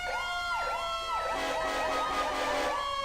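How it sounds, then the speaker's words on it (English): A fire truck siren in the FiveM game wails continuously in a fast, repeating up-and-down sweep, steady and fairly loud with no voices over it. "There are still plenty of fire trucks to use that have working fire sirens now"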